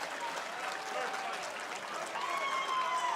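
A crowd at a World's Strongest Man final cheers and claps during the stone event as a 460-pound stone is loaded, a steady wash of distant crowd noise with scattered shouts throughout.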